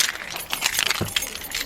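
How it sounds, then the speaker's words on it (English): Car keys jangle briefly and quietly up close as they are handled and slid into the ignition, a short cluster of light metallic clinks. "So I'm going to go ahead and put in my car keys."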